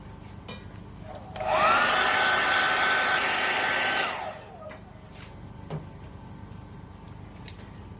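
A hair dryer blows on a watercolor painting of a rocky Mediterranean beach, switching on with a rising whine, holding a steady loud rushing roar for about two and a half seconds, then cutting off, followed by faint small handling noises.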